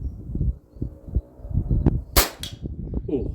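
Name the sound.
FX DRS Tactical .22 airgun shot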